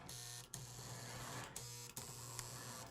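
A pre-war Lionel Hudson toy locomotive motor running on a 12-volt test set after its dried grease was worked in, a steady close whirring electric hum with brief periodic dips and clicks.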